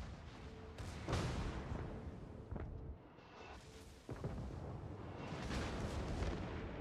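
Main guns of the battleship Yamato firing shells in a naval combat game, deep booming blasts with rumbling roars that swell and fade, a sharp report around four seconds, heavy and continuous with no voices.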